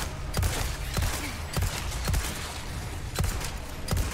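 Bursts of gunfire in a modded Resident Evil 4, sharp shots popping at irregular intervals over a busy, noisy game background, with no talking.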